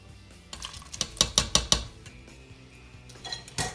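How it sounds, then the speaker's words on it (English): Small red beans from a can tumble into an Instant Pot of broth, giving a run of four or five loud clattering metallic knocks and scrapes against the pot, then a final clank. "I'm going to add 1 can of small red beans."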